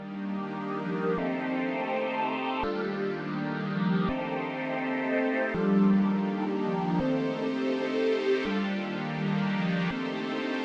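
A looped music sample plays back alone as a steady harmonic chord pattern, repeating in regular sections with sharp cuts between segments, moderately loud and with no talking over it.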